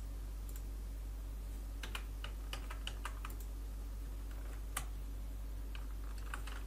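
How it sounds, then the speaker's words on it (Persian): Keys tapped on a computer keyboard during 3ds Max building modelling work, a sparse run of light clicks with a few sharper presses, close and clear over a steady low electrical hum, no talk. "بک اسپیس میزنم."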